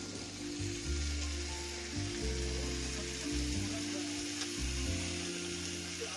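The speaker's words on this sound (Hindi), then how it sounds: "अब ये भाभी सबसे पहले आलू फ्राई करेंगी इसमें।" Potatoes fry in a pan with a low, steady sizzle under loud, droning low hum and engine-like background noise, fairly quiet overall and without speech.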